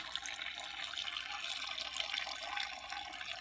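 Coolant from a Toyota MR2 SW20 with a 3S-GTE engine drains out through a hose, making a steady, close liquid rush and trickle throughout with no talking.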